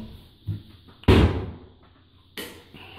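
A drawer with a notch cut out of it is shoved back into its slot in a unit, giving a sharp wooden thud, then a second softer knock a moment later, amid quiet room noise and no talking.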